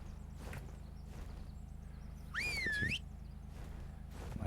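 A short whistled call in the video game Ark to command a creature, a single rising and falling tone over a quiet background of soft footsteps and ambient noise.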